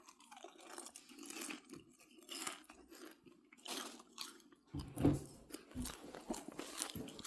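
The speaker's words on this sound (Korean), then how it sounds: "이제 여유 있게 팝콘을 먹어야죠" Popcorn being eaten at home, with steady close crunching and chewing through the whole stretch and a louder bite near the end, no talking.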